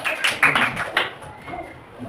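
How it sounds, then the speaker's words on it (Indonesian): A brief patter of scattered hand claps from a small group, fading quickly into quiet room noise. "tepuk tangan untuk kelompok 1"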